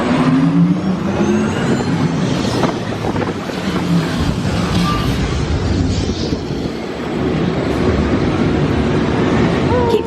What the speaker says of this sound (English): Commencing sim car off-road and extreme weather sequence.